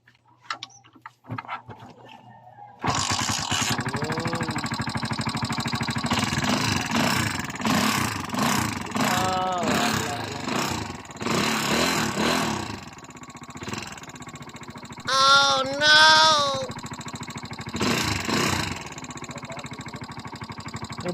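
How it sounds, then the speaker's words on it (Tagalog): A Euro Viper 150 motorcycle with a hard-starting, electrical fault sputters and revs unevenly for a stretch, with bursts of rising pitch, then fades into quieter background noise. "At umusok din ang tambutso ni Busing."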